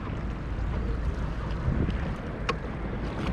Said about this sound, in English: And there's Rusty off in the distance with his motorized kayak